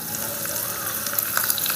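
Onion sizzles and fries in a pan over a wood-fired village chulha, a steady close crackling hiss with small pops.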